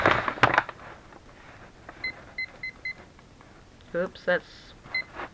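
A kitchen timer gives short, high electronic beeps as its buttons are pressed to set it: a quick run of four chirps, then a single beep a moment later. A person speaks briefly around them.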